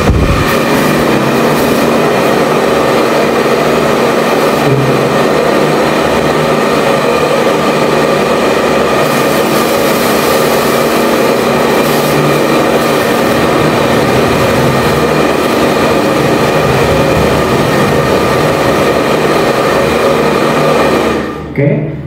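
A hair dryer switched to its high setting blows with a loud, steady whirring roar and tonal motor hum that holds constant before cutting off abruptly near the end.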